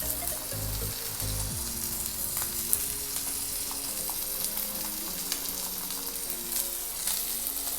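Steak searing in a hot pan, a steady close sizzle and crackle running throughout with a couple of low thumps near the start and small pops scattered over it, no voices.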